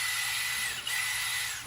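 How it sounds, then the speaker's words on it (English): A small power drill bores out a 10E switch housing with a 7/64 bit, a steady high whine with grinding overtones running continuously and close, ending with a brief clatter. "We're gonna take our 10E switch and drill it out to that 7/64 again."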